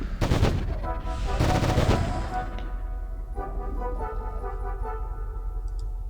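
Weapons fire in the online game Anarchy Online: loud, close bursts of rapid shots at the start and again about a second later, then a fading tonal ring and softer game effects.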